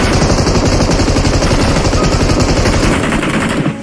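M249 machine gun in BGMI firing a long, rapid, sustained burst, loud and close, with shots in tight even rhythm before cutting off abruptly near the end.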